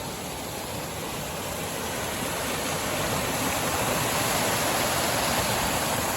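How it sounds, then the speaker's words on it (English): A waterfall among redwoods in the Coast Miwok preserve roars as a steady, dense broadband rush, close and continuous, swelling slightly louder toward the end with no voices. "this waterfall with all the redwoods surrounded"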